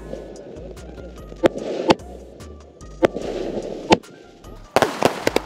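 Sharp bangs from Sivakasi export firecrackers go off one at a time over a crackling background, ending in a rapid burst of several loud pops.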